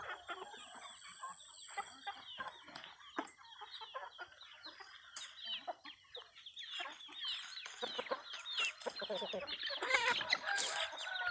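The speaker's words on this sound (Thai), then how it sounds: "เดี๋ยวข้าวให้ไก่กินก่อน" Chickens on a Thai farm cluck and squawk in a busy, overlapping chorus close by, with an occasional crow, steady and moderately loud throughout, with brief human speech mixed in.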